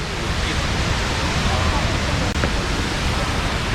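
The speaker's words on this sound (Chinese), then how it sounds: "这个昌邑机场呢，它有一个非常出名的一个瀑布" Indoor waterfall at Singapore Changi Airport, a loud, steady rushing roar of falling water that fills the space evenly from start to end.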